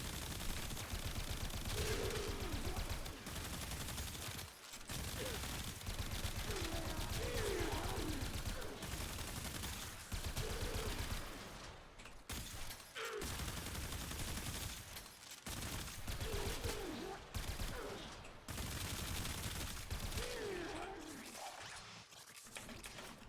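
Nonstop rapid weapon fire in a video game, a dense rattling stream of shots that runs for the whole stretch with only a few short gaps, loud and close.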